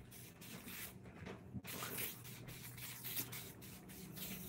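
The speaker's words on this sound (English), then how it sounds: "Febreze, Hawaiian Freeze is what we're going to spray." Febreze Hawaiian Freeze air freshener spraying indoors during a house clean, quiet hissing bursts with a brief gap and light rustling, faint and close.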